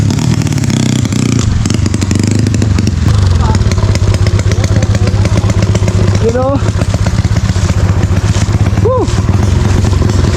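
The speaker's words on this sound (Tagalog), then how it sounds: "Kaya talagang napalaban na mga motor." Enduro motorcycles labour along a muddy mountain trail in drizzle, engines droning and revving nearby with clattering and scraping, while riders shout and talk over the noise.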